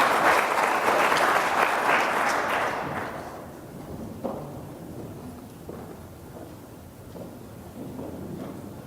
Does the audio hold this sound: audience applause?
yes